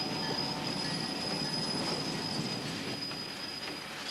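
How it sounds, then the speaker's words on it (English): A passenger train operated by the Chicago and Northwestern Railroad rolls steadily across Iowa farmland, with a continuous rumble of wheels on rails and a thin, sustained high squeal throughout. "A new crew comes aboard, and the train moves on."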